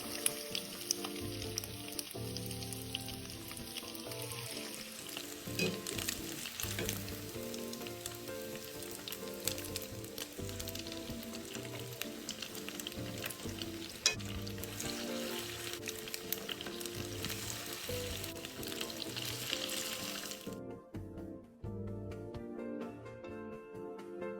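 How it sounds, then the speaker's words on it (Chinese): Tofu batter deep-frying in hot oil gives a steady, dense sizzle and crackle that runs continuously with no talking, then thins out abruptly near the end. "油炸过程中，面糊不会粘连，这点大家完全可以放心。"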